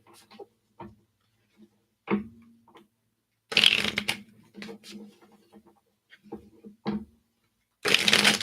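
Revelation Tarot cards being shuffled, heard as scattered soft riffling bursts and two longer, louder shuffles, close up with quiet pauses between them.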